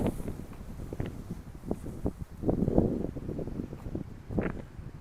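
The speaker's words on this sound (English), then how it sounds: "A little less windy here than some places." Wind gusting outdoors on a windy morning walk near the water in Regina, a steady rushing buffet across the microphone that swells and eases, with soft rustling and footstep-like thumps underneath.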